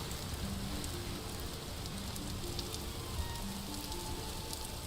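Rain from the tail end of a storm falls steadily in a dense, even hiss, faint and continuous with no talking.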